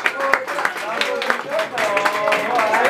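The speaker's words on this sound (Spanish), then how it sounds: "Y el aplauso bien bonito" Family guests clap at a quinceañera celebration with a mariachi band, a lively burst of applause mixed with voices and cheering close by.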